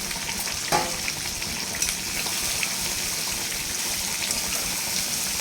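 Giant freshwater prawns frying in a hot pan for a coconut-free prawn malai curry, a steady close sizzle and crackle running throughout with occasional stirring scrapes.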